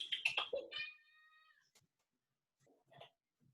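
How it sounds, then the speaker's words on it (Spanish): A pet kitten meows several times up close, with a long drawn-out cry followed by softer, shorter mews and brief pauses between them. "Se me está revelando mi gatito."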